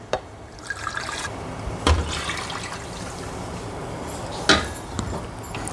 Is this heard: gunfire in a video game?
no